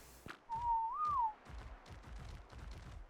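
A single rising-and-falling whistle call, loud and clear, sounds as a player command in the dinosaur survival game Jurassic Awakening, over a backdrop of repeated low thumps and faint game noise.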